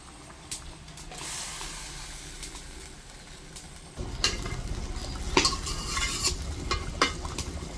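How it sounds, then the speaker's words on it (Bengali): Pieces of aair fish go into a pan with boiled potatoes and are stirred: a steady frying hiss with scattered utensil clinks, growing louder and busier partway through, with no one speaking. "এখন আমি মাছগুলি দিয়ে দেব"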